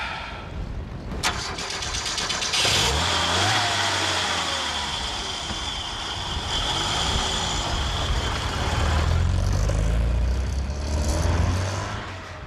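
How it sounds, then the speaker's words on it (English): An AC Cobra kit car cranks and fires up on a track, the engine catching after a starter whirr, then idling and revving in rising, rumbling surges, loud and close. "then we'll take our first laps round the track"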